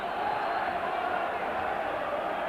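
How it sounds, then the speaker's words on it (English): Football crowd at a 1993 Champions League match between Rangers and Club Brugge in Glasgow, a steady, dense roar of massed voices holding at an even level throughout, with no distinct peaks. "So the crowd getting right behind them."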